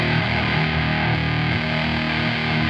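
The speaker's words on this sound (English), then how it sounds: "It really gives a lot of harmonics and that brutal distortion in the bottom end" An electric guitar through a fuzz distortion pedal plays a thick, saturated riff with a buzzing low end, loud and continuous throughout.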